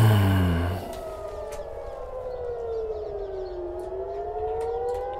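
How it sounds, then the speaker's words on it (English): Civil defense air raid sirens wail across a city during attacks on Tel Aviv, one loud tone dropping off at first, then a long, distant rising and falling wail under faint background noise. "More sirens"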